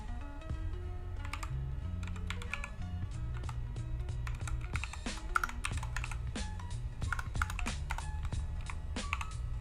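Computer keyboard keys typed in quick irregular bursts during a Lua coding session, close and clear, with bright clicks over a steady low hum and no talking.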